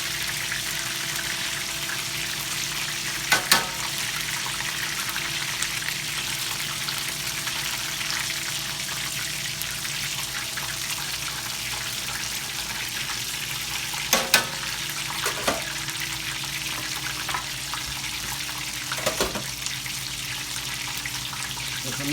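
Battered cod, tempura-style, frying in hot oil for homemade fish and chips, a steady soft sizzle throughout with a few brief clinks and scrapes.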